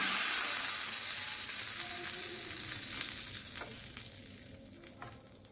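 Steady hot-oil sizzle and crackle as a tempering is poured into cucumber raita, loud at first then gradually settling, with faint stirring clinks and no talking.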